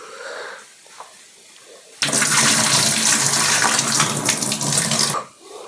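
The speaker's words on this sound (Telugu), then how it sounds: "బాగా నాన్ని వీటిని మనం కడుక్కొని వాటర్ ఉంచుకొని" Soaked urad dal being rinsed under a running tap into a sink, a steady loud gush of water that starts abruptly, holds for about three seconds, then cuts off, with quiet room sound before and after.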